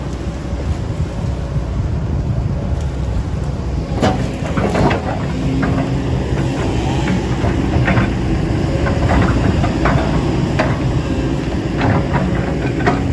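An SK200-10 excavator felling rubber trees on a plantation: a steady, loud engine rumble runs throughout, with sharp cracks and snaps of wood breaking scattered from about four seconds on.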